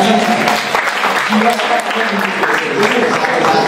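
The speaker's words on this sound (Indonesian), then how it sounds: "Tepuk tangan ya." A student audience at a high school talk show claps together, a dense burst of applause lasting a few seconds with a voice partly heard over it.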